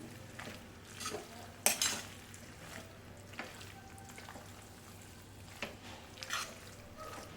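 Veg macaroni pasta with cheese stirred in a pan, soft intermittent scrapes and light clinks of a spoon against metal with a faint sizzle underneath, quiet and close.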